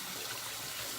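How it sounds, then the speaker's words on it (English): Steady hot tap water pours and splashes as a razor is rinsed beneath it, a continuous close rush with no pauses. "I like to run it under hot water first"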